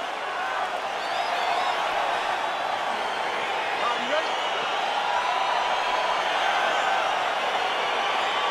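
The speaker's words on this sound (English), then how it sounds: "crowd getting excited as this fight gets underway" An arena crowd at the start of a UFC bout makes a continuous excited roar that swells slightly and holds steady throughout, with scattered shouts rising out of the broad noise.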